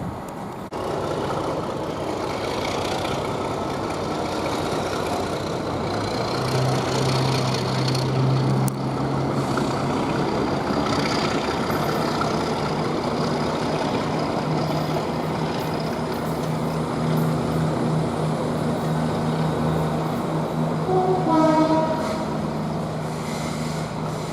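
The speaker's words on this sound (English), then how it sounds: "there goes 39009 heading to Glasgow Central" Locomotive 39009 passes on the West Coast Main Line at Nuneaton, bound for Glasgow Central, a loud, steady rumble that fills the whole stretch, with a brief rising whine near the end.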